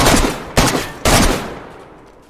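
Three heavy gunshots in DayZ, each a loud close blast about half a second apart, the last one rolling off into a fading reverberant tail.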